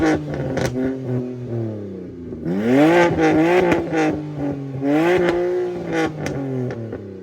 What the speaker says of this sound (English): he's gonna go ahead and rev it a little bit.